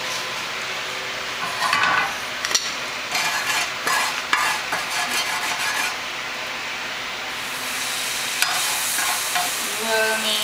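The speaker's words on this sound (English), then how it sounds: "you will need to fry the tuna as well" Tuna fries in oil in a pan, a bright continuous sizzle layered with rhythmic scraping of a spatula across the pan bottom, loud and close throughout.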